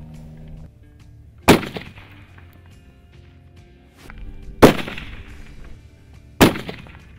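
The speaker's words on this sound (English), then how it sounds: "I've pressed out several shots and it looks like I'm impacting low." Precision rifle fired at steel targets 600 yards away: three sharp, loud shots spaced a few seconds apart, each with a short decaying tail over quiet background rumble.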